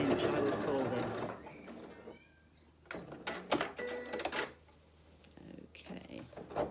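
A sewing machine stitches around a fabric hexagon bowl in short buzzing bursts separated by pauses, close by, with talking at the start and faint handling clicks between runs.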